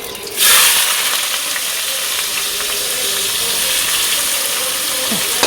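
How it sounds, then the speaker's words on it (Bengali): Onions frying in mustard oil with whole garam masala and bay leaf, a loud steady sizzle that starts abruptly and holds evenly without talk. "পেঁয়াজটা ভালো করে ভেজে নিই"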